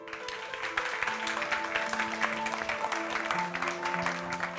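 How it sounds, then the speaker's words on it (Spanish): Festival audience greeting film teams with steady applause, a continuous crackle of many hands clapping, with sustained musical tones playing underneath throughout. "vamos a recibir a todo este talentazo, a todos estos equipos, con un fortísimo aplauso"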